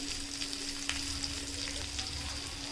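Semolina-coated chicken pieces shallow frying in a small amount of oil, a steady close sizzle with a few faint spatula scrapes, continuous and even throughout.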